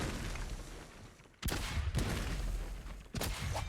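Cannon shots landing on a player during a solo esports match, heard as quiet, muffled fire with sharp booming impacts at intervals and a steady rumbling battle background between them.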